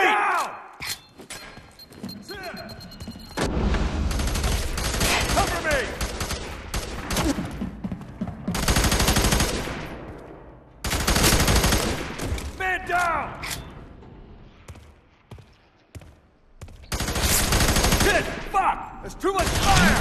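Video game gunfire from FEAR 3 in a prison firefight, dense bursts of automatic fire and thuds crackling repeatedly in loud waves with brief lulls, while voices shout amid the shooting.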